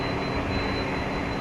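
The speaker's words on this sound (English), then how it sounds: "I hear the whine of another" A Boeing 767 jet at DFW Airport at night, heard as a steady broadband roar with a thin high whine running through it, constant and fairly loud.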